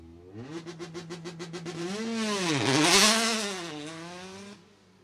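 Citroën C2 rally car on a rally start line, its engine revving up and down in rising and falling sweeps, loud and close, with a strong surge near the middle before easing back to idle.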